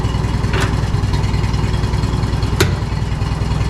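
A J.I. Case 730 tractor engine idles slowly and steadily close by, giving a low, even rumble with a couple of brief higher clanks over it.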